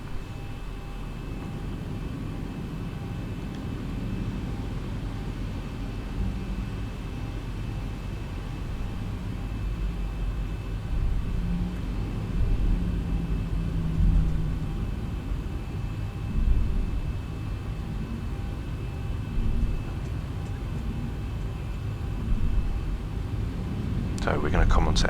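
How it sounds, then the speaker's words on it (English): A Boeing 737 taxiing toward runway 34 in X-Plane 11 produces a steady low engine rumble and airy hiss for the whole stretch, swelling slightly now and then, and ending in a brief louder rush. "we're now going to taxi on down to the runway 34"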